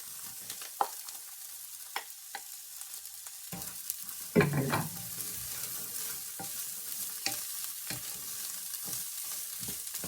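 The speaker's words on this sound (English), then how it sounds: "I just want to stir fry these green beans just to get a little bit of heat on them." Steady sizzling of green beans stir-frying in a hot pan, with a louder hiss and clatter partway through as they are tossed, then a constant fry.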